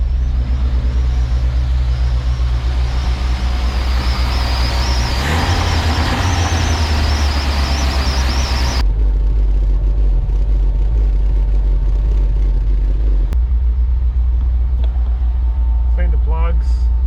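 A Toyota 7K turbo engine idles on its first start, a loud steady low rumble that continues throughout, with a few abrupt shifts in tone and brief bursts of higher noise partway through.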